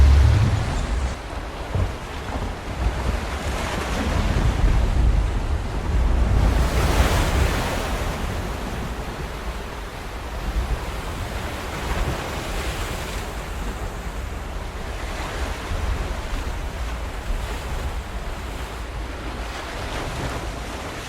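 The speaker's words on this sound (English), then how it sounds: "crashes of waves are crazy" Ocean waves crash and roar in a sustained wash of surf with wind-like noise, loud and continuous, part of a played song, with no voices over it.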